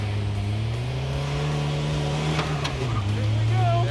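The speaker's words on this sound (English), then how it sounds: "Now he said he's gonna clutch kick it around the pole." A Roadkill project car clutch-kicked around a foam pole, its engine droning steadily and loudly throughout, rising slightly in pitch as it revs, with voices talking over it.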